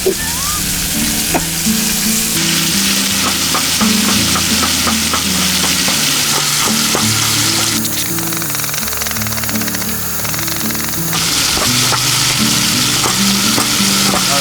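Bacon sizzles and spits in a pan at a winter campsite on frozen Lake Nipissing, a loud continuous fry heard close up beneath a steady mechanical drone with rhythmic tapping.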